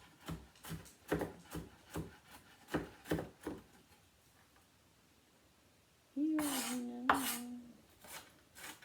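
Knife chopping vegetables on a big cutting board during Thanksgiving prep, a run of steady close thuds and taps, then a short stretch of continuous tonal clatter near the end.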